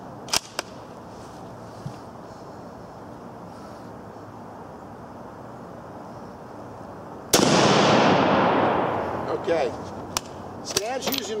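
An 8mm Mauser rifle firing a single loud, sharp report outdoors, followed by a long rolling echo that fades over a few seconds, with faint voices and small clicks around it.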